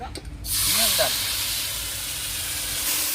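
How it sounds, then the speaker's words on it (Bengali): Lentils frying in leftover rohu fish-head oil in a home kitchen, a steady loud hiss and sizzle starting abruptly after a brief moment and continuing evenly, with a faint voice underneath. "এবার আমি ডালটা ভেজে নিচ্ছি"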